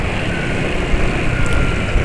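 A motorcycle engine after 76 km on its oil idles steadily, close and loud, a dense rough rumble with no talk over it.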